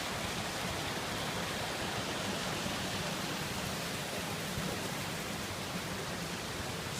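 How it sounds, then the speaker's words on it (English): A river runs on the way up to the Falls of Falloch in Scotland, a steady broadband rush of flowing water, close and constant with no voices. "The river on the way up to the falls."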